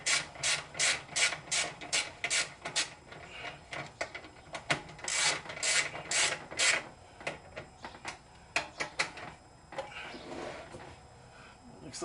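A part on a Chinese two-stroke generator's starter is tightened with a hand tool: a close run of quick, rhythmic ratcheting clicks that slows and grows sparser toward the end.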